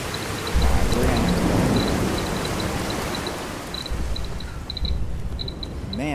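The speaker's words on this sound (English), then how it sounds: "Man, what kind of rad storm is that?" Heavy rain hisses steadily through a thunderous radiation storm in the Fallout video game, with a low rumble early on and small chirping game tones repeating on top.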